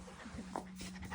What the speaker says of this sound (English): That's a good puppy.